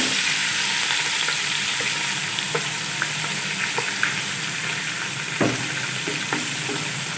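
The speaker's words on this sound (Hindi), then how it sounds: "मैरिनेट किया हुआ चिकन डालेंगे।" Marinated chicken with cumin sizzles steadily in a hot karahi for a white Mughlai chicken karahi, a continuous close frying hiss broken by occasional soft clicks and scrapes of stirring.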